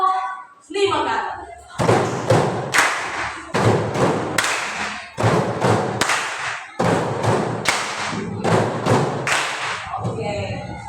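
A classroom of students performs a 'boom, clap' routine five times over: rhythmic rounds of loud, close thumps and claps repeat with short gaps, mixed with children's voices calling out.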